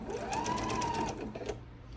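A sewing machine stitches an apron, whirring steadily at moderate speed close by, faint and alone.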